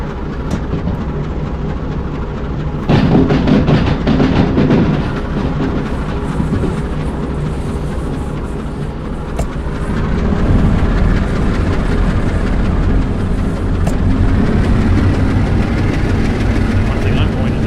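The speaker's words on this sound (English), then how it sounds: "The train's just about down off the hill, so I think we did a release here." A heavy freight train rolls downhill in the Derail Valley simulator, giving a steady low rumble of wheels and rail noise with brake hiss, continuous throughout, while a voice talks over it.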